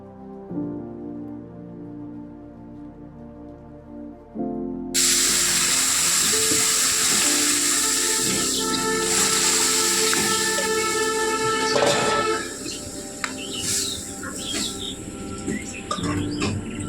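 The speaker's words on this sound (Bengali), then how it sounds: "ফোড়নে জিরা দিচ্ছি, রাঁধুনি," Cumin and radhuni dropped into hot tempering oil for a mixed vegetable dal burst into a loud, steady hiss and sizzle that holds for several seconds before easing slightly, with faint tones underneath beforehand.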